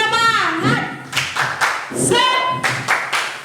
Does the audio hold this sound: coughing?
no